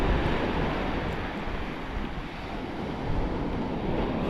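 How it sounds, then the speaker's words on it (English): Ocean waves break on a distant reef beside a fishing beach, heard as a continuous surf roar with gentle swells in loudness and some wind noise, no talking. "See the waves breaking way out there on a reef."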